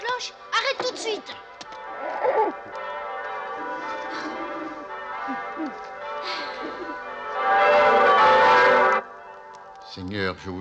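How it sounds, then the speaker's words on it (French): Church bells ring out in an animated scene, a loud bright clanging swell lasting a couple of seconds, set among frantic voices and other sound effects. "C'est toi qui sonne les cloches?"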